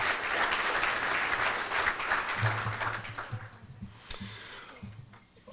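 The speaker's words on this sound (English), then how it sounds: "So please give them a round of applause for their attendance today." Luncheon audience at the Pasco Chamber of Commerce applauding: a dense, steady wash of clapping that thins and fades over about five seconds, with a few low voices and murmurs surfacing toward the end.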